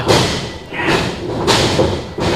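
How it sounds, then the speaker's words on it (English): Heavy, dull thuds of punches and smacks in quick succession during a wrestling match, loud and close, blended with a roaring crowd-like wash of noise. "I can hear that smack from here"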